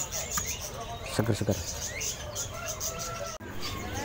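Canaries chirping among the crowded kiosks of Pramuka bird market, bright tweets scattered over steady market bustle, with someone talking throughout and a brief burst of clatter near the start.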